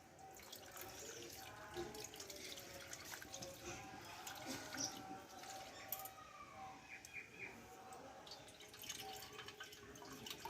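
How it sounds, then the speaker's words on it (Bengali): Cold tap water runs continuously over fresh chhena cheese curds being rinsed in a kitchen sink, a soft, steady splash with small drips and clinks throughout, fairly faint and without speech. "এবার একটু ঠান্ডা জল দিয়ে আমি ধুয়ে নেব ছেনাটাকে একটু যেহেতু গরম আছে"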